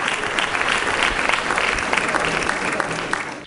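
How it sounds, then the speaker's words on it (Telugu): A church congregation claps in praise during a sermon, a dense, steady burst of applause that carries loudly for several seconds before tapering off at the end. "నమ్మిన వాళ్ళు చప్పట్లు కొడుతూ దేవుని మహిమ చెల్లిద్దాం"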